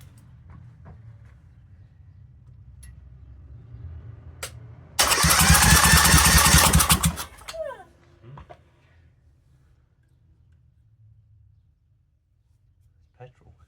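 A Honda GX630 engine fires with a sudden loud, rough roar that lasts about two seconds, then cuts out abruptly. Quiet, low background noise comes before and after the burst.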